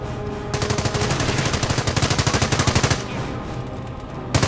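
Machine guns fire in rapid bursts in the World War II strategy game Company of Heroes, a loud rattling stream of shots followed by a brief pause and a final short burst.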